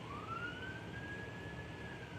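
A distant emergency siren wails in the background, a faint rising and sustained tone over low ambient rumble.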